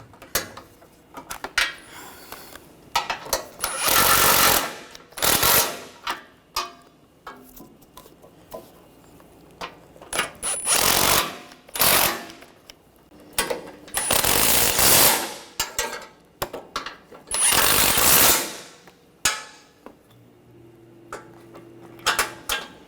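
Power tool tightening bumper bolts on a 2013-2019 Ford Escape, several loud ratcheting bursts of a few seconds each, separated by quiet handling and clinks, close and without talk.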